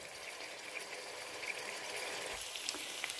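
Lamb liver and garlic fry in a pan, giving a steady close sizzle and crackle with a few brighter pops throughout, and no voice over it.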